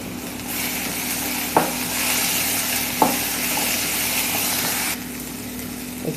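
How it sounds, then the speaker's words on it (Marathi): Garlic cloves, ginger, chopped tomato, coriander and cashews fry in a pan for paneer masala, a loud continuous sizzle with two sharp utensil knocks, then the hiss drops away near the end. "आता हे सगळं आपण 1-2 मिनिटं फ्राय करून घेऊ"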